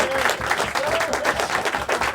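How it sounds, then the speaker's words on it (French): A live audience at a 25th-anniversary show applauds in a sustained, even wash of many hands clapping, with faint voices mixed in. "Steve Patry, vous pouvez applaudir."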